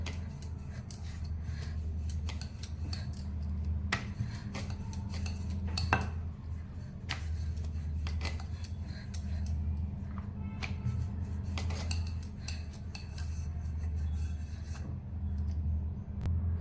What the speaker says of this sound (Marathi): आता आपण पोळी लाटून घेणार आहोत